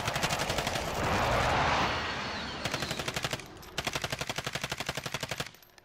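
Video game gunfire in Call of Duty Warzone Resurgence: a loud wash of shots followed by two rapid automatic bursts of rhythmic, evenly spaced rounds, with no speech.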